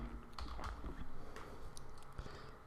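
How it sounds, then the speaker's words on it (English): A computer keyboard is typed on in a short run of soft, close keystroke clicks, quiet and steady, with no talking. "you got to type HDFC Bank"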